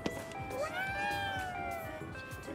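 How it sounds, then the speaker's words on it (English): A cat meows in the video game Ghostwire: Tokyo, one drawn-out, rising then falling meow, clear and fairly close over soft background ambience. "let's buy it from this cute kitty cat thing"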